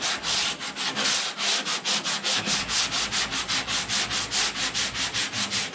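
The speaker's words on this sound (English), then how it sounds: "So you keep blocking away at it until all those scratches are gone." Body filler on a car panel is worked with a hand sanding block in steady back-and-forth strokes, a close, rhythmic scratchy rasp repeating about every third of a second.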